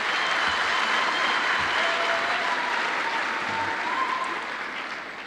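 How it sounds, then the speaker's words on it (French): Audience applause for award recipients at a finance ministry ceremony, a broad, sustained wash of many clapping hands, steady and fairly loud throughout, tapering slightly toward the end. "je vous prie d'applaudir pour les récipiendaires."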